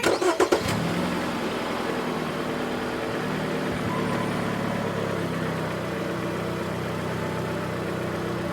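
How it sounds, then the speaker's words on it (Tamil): A vehicle engine cranks with a quick burst of loud starter pulses, catches and then keeps running at a steady, mid-pitched drone close by. "வண்டி கிளம்ப போகுது"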